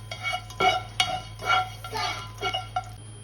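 Cloves, green cardamom and black pepper frying in oil in a pan, with a spoon scraping and clinking in uneven strokes over a low steady hum, close and without talk.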